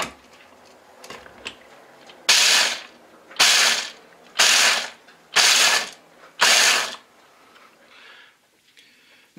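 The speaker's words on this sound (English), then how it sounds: "I'm going to chop up some honey roasted peanuts in my food processor" Food processor chopping honey roasted peanuts in five loud, rattling bursts of about a second each, separated by short pauses, close and alone without talk.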